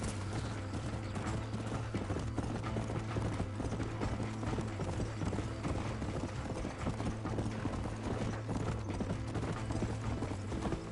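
Rapid rhythmic hoofbeats of a galloping horse during a race in Red Dead Redemption, continuous and fairly close, layered over a busy mechanical background with no talking.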